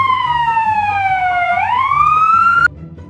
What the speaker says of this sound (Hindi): ये देखो बच्चों, एम्बुलेंस।